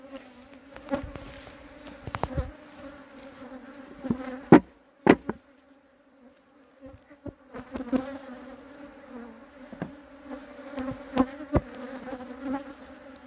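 Honey bees buzz around a hive being prepared for spring, a droning hum close by, broken by sharp knocks and thumps as bees are knocked off into the lid.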